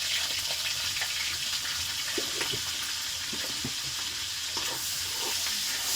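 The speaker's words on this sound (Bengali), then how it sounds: "রুই মাছের মাথাটা আমি তেলে ছাড়বো।" A rohu fish head fries in hot oil, a constant close crackling sizzle with scattered pops and a few soft utensil knocks.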